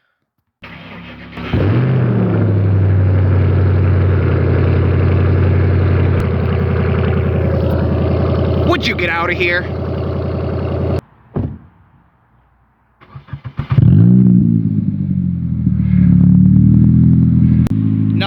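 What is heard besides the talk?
loud car exhaust, engine revving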